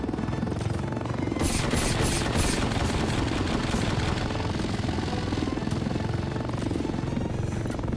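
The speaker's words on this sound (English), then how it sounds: "He just shoots, incessantly shoots at people with his C-Ram." Rapid, relentless automatic fire from a C-RAM gun in the War Tycoon game, a loud dense roar of shots sustained across the whole stretch with no talking.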